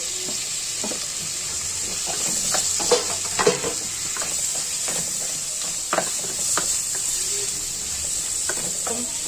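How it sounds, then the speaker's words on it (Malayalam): Onions and tomatoes sizzle in a pan, a steady hiss of frying broken by scrapes and clacks of a spoon stirring now and then, close and without talk. "നമുക്ക് തക്കാളിയും കൂടി ഒന്ന് വഴറ്റിയെടുത്ത് റെഡിയാക്കി വെക്കാം."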